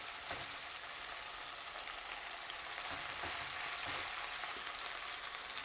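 Greens (soppu) added to a pan of softened tomatoes sizzle steadily over a low flame, a soft continuous frying hiss broken by occasional scraping stirs, with no talking.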